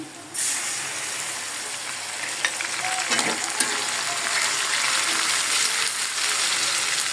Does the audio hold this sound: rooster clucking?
no